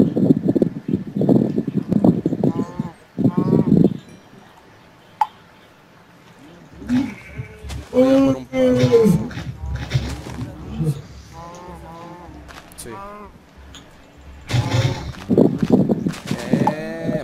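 Minecraft cows low and moo a few times mid-stretch amid game noises, while players talk in Spanish before and after.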